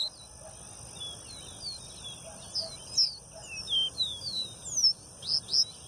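A caged caboclinho seedeater sings repeated high, thin chirping phrases at moderate distance over a soft outdoor background hiss, with no one talking.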